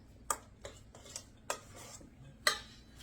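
Vanilla being stirred into a dessert filling in a bowl, heard as a spoon clinking against the bowl in about four sharp taps, with softer scraping in between, in a quiet kitchen.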